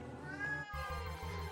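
A pet cat lets out one soft, wavering meow up close, followed by low rumbling background noise.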